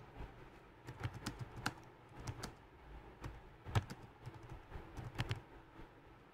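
HTML heading code is typed on a computer keyboard in a quiet room, giving faint, soft key taps in a loose uneven rhythm over low background hiss.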